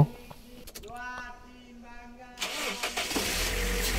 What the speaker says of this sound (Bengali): আমরা গাড়িটা স্টার্ট করব